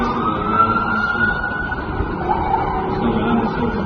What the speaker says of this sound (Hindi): जहां एम्बुलेंस आने जाने का काम कर रही है ठीक उसी जगह पर।